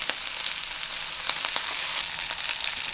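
Rack of lamb sizzles in butter with thyme in a pan, a steady close frying hiss with scattered crackles and pops that grow busier toward the end.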